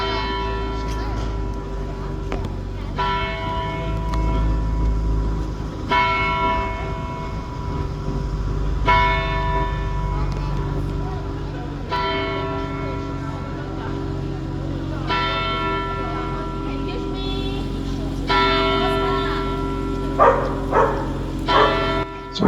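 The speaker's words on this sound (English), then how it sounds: "in German this means time bell, and it's a landmark medieval tower in Bern, Switzerland" The Zytglogge, a medieval clock tower in Bern, Switzerland, chimes at noon: loud, ringing bell strikes repeat at intervals of a few seconds, each tone lingering over a low constant hum, with a crowd murmuring nearby.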